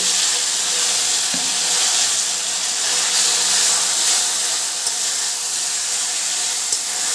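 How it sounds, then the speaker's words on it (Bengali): Taro leaves are dropped into a pan of hot oil with fried garlic and green chillies, giving a loud, steady sizzle and hiss with a faint clink or two, and no voices. "এবার আমি কচুর শাকটা দিয়ে দিচ্ছি।"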